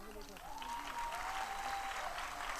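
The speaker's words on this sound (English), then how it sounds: "A huge round of applause for all the students sitting backstage" An audience at a school annual function breaks into sustained applause, a dense wash of many hands clapping that swells and holds steady, while a voice speaks and a faint tone rises over it.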